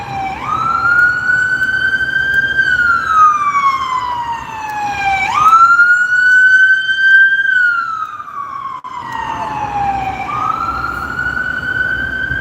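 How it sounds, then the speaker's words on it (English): A loud wailing ambulance siren sweeps up and down in long cycles, close behind and steady, with faint road rumble beneath. "I literally got an ambulance right behind me"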